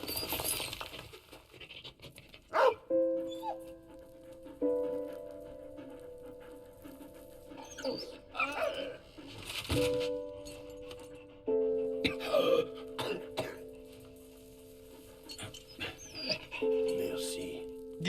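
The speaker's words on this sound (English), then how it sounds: "Give a sausage to the dog." A dog in the World War I video game Valiant Hearts pants, patters and whimpers in short bursts over game music, with voices speaking at times.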